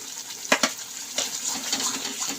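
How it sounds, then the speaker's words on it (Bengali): Spice masala of chilli powder and salt sizzling in a pan while cooking chhanar dalna: a steady, soft frying hiss with a couple of brief stirring scrapes near the start. "মশলাটা খুব ভালো করে ভাজা হয়ে গেছে"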